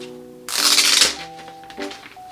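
Packaging of a vinyl LP is handled, giving a short, close crinkly rustle lasting about half a second, followed by fainter handling noises over soft tonal background sound.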